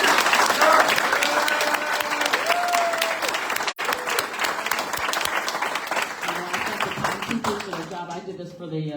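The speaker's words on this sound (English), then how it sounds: "But now is the time for applause." An audience at a political debate applauds in a steady wash of clapping that goes on for several seconds, with voices faintly mixed in.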